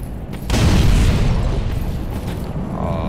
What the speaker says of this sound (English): Throw the bomb, please.